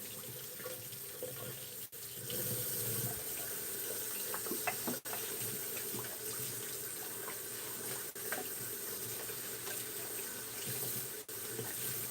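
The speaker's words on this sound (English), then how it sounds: "I'm going to have to go down by the sink here to rinse out my goatee." A bathroom sink tap runs steadily as cold water is used to rinse shave soap out of a goatee, a continuous hiss with small splashes and brief interruptions.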